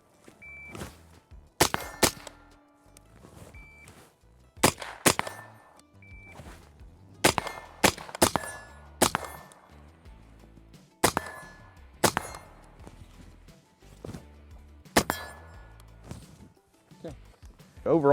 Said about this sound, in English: We're gonna do 2 shots on the steel